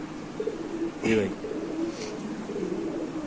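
Pigeons at a seller's market stall, a few soft coos with one louder burst, heard close over low background noise.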